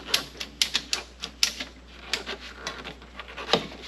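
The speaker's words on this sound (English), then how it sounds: "I got another ratchet strap. I'm gonna see if I can't pull the spring down." A ratchet strap is cranked in short, sharp clicking bursts to pull down a Jeep's lift spring, the irregular clicks close and fairly loud against a quiet background.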